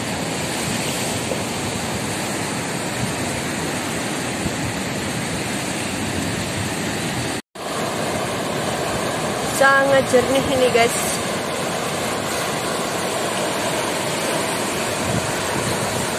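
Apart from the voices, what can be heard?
ocean waves breaking on a beach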